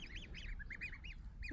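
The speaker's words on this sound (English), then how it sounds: "The little geese, the little goslings, are getting along great." Young goslings honking and peeping in rapid, repeated chirpy calls, close and continuous, a small group of soft rising-falling notes with no voices.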